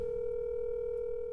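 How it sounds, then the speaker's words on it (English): A steady, unbroken telephone tone sounds as a number is called, loud and continuous with no other sounds over it. "We called that number."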